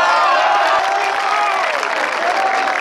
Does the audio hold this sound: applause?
yes